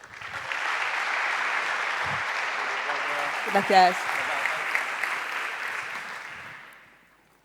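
An audience at a business talk on data claps steadily for a speaker, continuous applause lasting several seconds before fading out, with a brief spoken thanks partway through.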